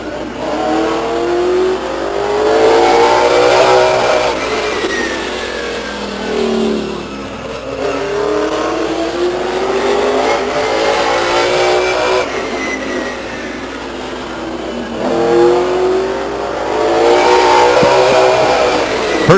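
Late model sportsman race cars qualifying at Stockton 99 Speedway, engines rising and falling in loud repeated passes as they circle the oval, each lap swelling near then fading, continuous throughout with no talk.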